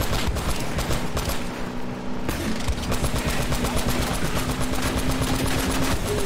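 Mounted machine gun firing in the Uncharted 4 video game, a long sustained rapid burst of shots with steady rattling rhythm, loud and close, over a faint vehicle drone and no speech.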